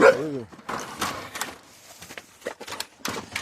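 A dog gives a few high, rising whimpers and yips right at the start, close and fairly loud, then fades under nearby people talking in French.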